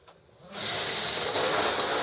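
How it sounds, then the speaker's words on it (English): Water bursts on in a newly installed 34-inch corner shower behind a curtain, a sudden rise into a steady, close hissing spray that runs on evenly. "turned on the water"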